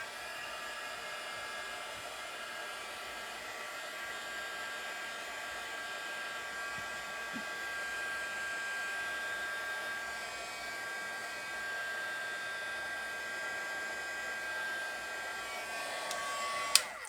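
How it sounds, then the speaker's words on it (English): A heat gun blowing steadily up close while drying Stickles glitter glue on a Copic-coloured card, a constant even whoosh with a thin whine riding on top and a small click near the end. "I'm just gonna use the heat gun for to dry the stickles."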